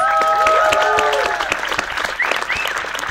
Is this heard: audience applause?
yes